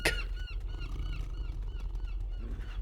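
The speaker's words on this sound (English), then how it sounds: "very noisy seagull across the way" A gull squawks repeatedly in a loud, harsh series of calls, close by, with steady outdoor background noise underneath.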